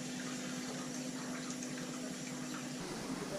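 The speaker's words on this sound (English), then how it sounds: "So we've got the hot water coming down there, and it's through this spinny thing." Hot water rinses through a spinning sparge arm over the grain in a home brewing setup, giving a steady, continuous rushing and spraying wash of water with a faint pump hum that stays even for the whole stretch.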